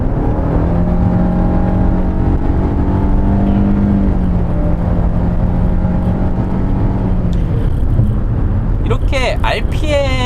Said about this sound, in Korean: 급 가속 시 3000rpm을 넘어가고 5000rpm까지 상당히 좀 시끄러운 모습을 볼 수 있습니다.